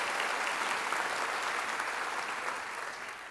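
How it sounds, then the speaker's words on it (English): Audience applause at a ballet competition livestream, a steady dense wash of clapping that holds loud throughout and eases only slightly toward the end, with no voices over it. "one more round of applause"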